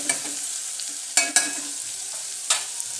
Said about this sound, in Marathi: माझे सगळे मसाले मी वरून टाकून घेणार आहे आणि मस्तपैकी असं फिरून घेणार आहे